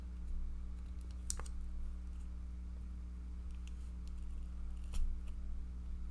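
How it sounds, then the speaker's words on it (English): A couple of sharp metallic snips cut through packaging, crisp clicks over a steady low hum, with no talking. "let me see if my scissors, my snips can help me out."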